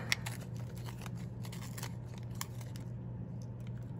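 A red colored pencil being sharpened by hand, a steady close scraping and grinding with small crackling bits over a low constant hum, no voices.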